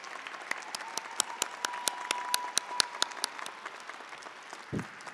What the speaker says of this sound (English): I would like to ask those faculty and academic staff here with us today to stand for a round of applause.